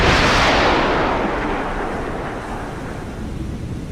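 A submarine torpedo launching from its tube in a video game: a loud, sudden broadband whoosh and rumble that fades steadily over a few seconds, with no voices.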